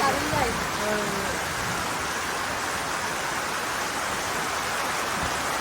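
Sudden heavy monsoon rain pours in a dense, unbroken hiss that fills the whole clip, with a few brief spoken words at the start.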